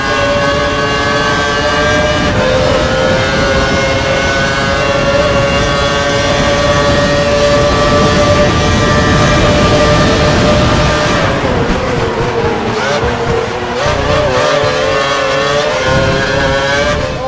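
Formula One race car engine from the F1 2012 video game at a Brazil sprint race, a loud sustained high-pitched whine that revs steadily, then drops and fluctuates through gear changes toward the end, with no talk over it.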